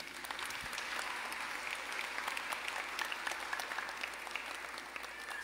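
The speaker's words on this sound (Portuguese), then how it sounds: "Vamos aplaudir essa menina aqui." Congregation applauding during a Catholic homily, a steady wash of clapping from a sizable crowd heard at moderate distance, continuous for several seconds without talk.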